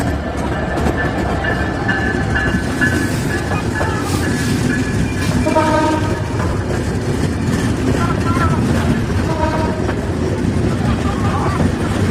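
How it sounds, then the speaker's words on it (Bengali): An intercity express train rumbles past nearby at Shyampur station on its way to Dhaka, with a steady loud roar and faint clattering of wheels, a voice talking over it. "বেনাপোল থেকে ছেড়ে আসা ঢাকাগামী আন্তনগর বেনাপোল এক্সপ্রেস ট্রেন"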